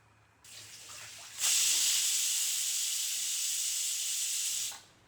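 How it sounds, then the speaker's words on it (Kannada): A pressure cooker holding vegetable pulao releases its whistle, a loud, sharp hiss of escaping steam that holds steadily for about three seconds before cutting off, preceded by a softer hiss. "ನೋಡಿ, ವಿಜಿಲ್ ಆಗಿದೆ."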